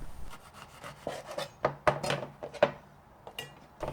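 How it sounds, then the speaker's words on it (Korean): A knife cuts the two ends off a tangerine on a cutting board, making a few soft, close scraping and tapping strokes against the board at an irregular pace, quiet and alone. "귤 양쪽 끝단을 썰어냅니다."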